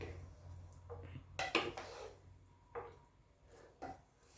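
A spoon scrapes and knocks against a cooking pot while meat is stirred, producing a few sharp clinks and soft scraping strokes at low volume, with quiet pauses between them.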